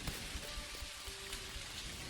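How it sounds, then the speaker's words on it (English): Steady rain falling in the farming video game Dinkum, a soft continuous patter with scattered droplets, even and unbroken, no voices. "Today, Saturday the 7th, in Dinkum, it does appear to be raining."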